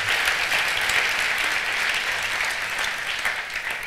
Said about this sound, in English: Please give them a round of applause for me.